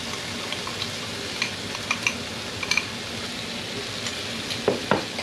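Jalapeno chicken and onions sizzle steadily in a hot pan as brown sugar is added, with close frying hiss broken by a few light scrapes and taps of a utensil against the pan.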